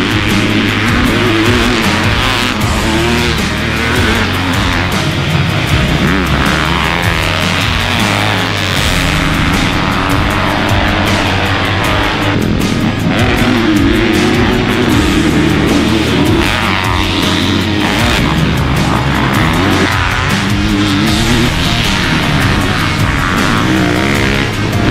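2022 250cc motocross dirt bikes riding on a track, engines revving and shifting loudly and continuously, passing close with steady high-pitched whine.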